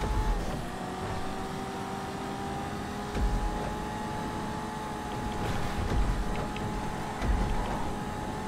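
Engine of a Banshee sports car racing in GTA Online, a steady sustained drone with small surges in revving, alone without talk.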